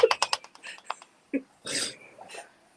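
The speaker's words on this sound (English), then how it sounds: "Sugar Kitty's typing what I'm tasting" Quick bursts of keyboard typing, a rapid cluster of close key clicks followed by a few scattered taps, with a person murmuring and making mouth sounds nearby.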